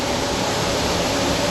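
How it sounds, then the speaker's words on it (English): A grain dryer runs steadily on a farm, producing a constant broad mechanical roar with a fan-like whoosh and low hum, loud and unchanging throughout without any talk. "Dryer's chugging right along."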